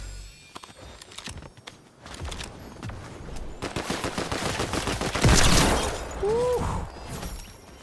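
Deagle pistol fire in Fortnite, a string of sharp shots among game effects and clatter, building to a loud blast near the end.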